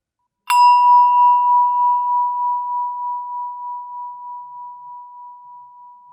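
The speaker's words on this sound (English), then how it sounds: "Every time you hear the bell, notice where your attention is." A single meditation bell is struck once, ringing clear and pure, then sustains with a slowly pulsing decay that fades gradually in otherwise silent surroundings.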